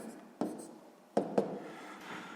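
Pen or chalk writing out a maths calculation, three or four short scratchy strokes with quiet gaps between them, heard close and alone.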